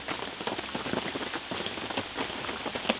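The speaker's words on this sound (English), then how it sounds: "just as we thought the rain was gone, it came back with a vengeance" Heavy tropical rain pours back down in Palanan, Isabela, as a steady dense hiss of drops hitting surfaces, with no voices over it.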